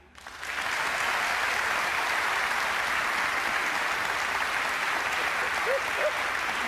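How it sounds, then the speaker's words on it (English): Studio audience clapping to vote for Kieran's pumpkin on a live haunted-themed show, swelling quickly into a dense, steady wash of applause that holds evenly to the end. "Audience, if you want Kieran to win, will you clap him now?"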